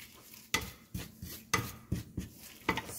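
A pan set down on a stove while preparing rooti Somali with mozzarella, heard as several sharp metallic clanks and knocks in an uneven rhythm, close and moderately loud.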